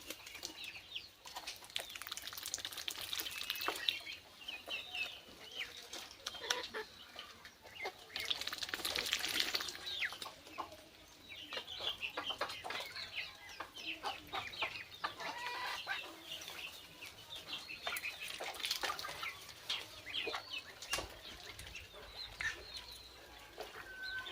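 Domestic country chickens and ducks on a small farm keep up a steady, busy clucking while they feed after being let out in the morning, with scattered pecks and brief wing flaps close by and no talking.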